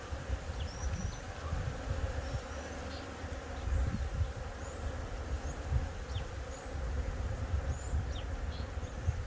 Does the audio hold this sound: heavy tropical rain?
no